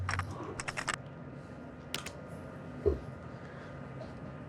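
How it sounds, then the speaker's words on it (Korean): A domain name typed on a computer keyboard: quick bursts of close key clicks followed by a few isolated taps, in a quiet room with no voices. "그다음에 원하는 도메인을 입력해요"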